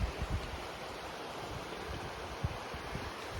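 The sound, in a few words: river flowing alongside woodland path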